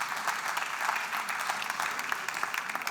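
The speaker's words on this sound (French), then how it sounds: "applaudissements pour Émeric." Audience applauds a speaker after a live crowdfunding presentation at an entrepreneurship fair, steady moderate clapping from a mid-sized crowd lasting the whole few seconds, with no talk over it.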